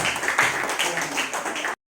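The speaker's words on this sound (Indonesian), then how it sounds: "Beri tepuk tangan untuk kelompok yang berhasil yang kebetulan." A classroom of students claps for a group that succeeded, giving a short burst of steady applause that cuts off abruptly.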